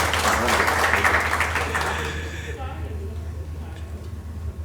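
Audience applause welcoming a guest at an Urdu farewell gathering and poetry evening on a cold December night, a dense burst of clapping with murmuring voices that fades after about two seconds into quieter crowd noise.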